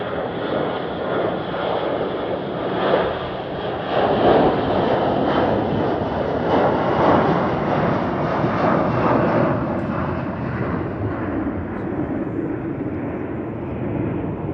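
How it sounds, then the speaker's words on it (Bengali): Airplane taxiing at Paro airport in Bhutan, a steady loud engine roar that holds for about fourteen seconds and eases slightly near the end, with no voices. "এবার ট্যাক্সিং করবে প্লেনটা"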